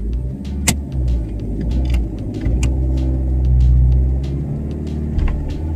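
A Mahindra Scorpio SUV engine labours up a steep mountain road near Prashar Lake in Kullu, a loud, close, steady low rumble that swells midway, with light clicks and rattles from inside the cabin.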